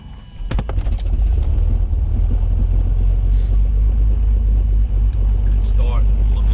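A Beechcraft Baron twin-engine aircraft engine catches after a few sharp cranking bursts, then settles into a loud, steady low rumble heard close up.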